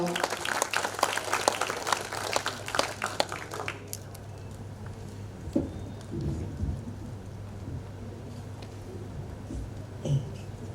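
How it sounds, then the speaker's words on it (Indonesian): Audience applauding at the opening ceremony of the Malay Writers and Cultural Festival 2024 in Jambi, a dense burst of clapping for about four seconds that then thins into scattered claps over a steady low hum. "kita beri aplaus dulu lah"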